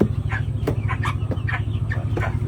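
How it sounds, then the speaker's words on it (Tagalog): Native chickens on a backyard Filipino farm cluck repeatedly in short irregular bursts over a steady low hum, with no voices present. "Ang dami manok oh."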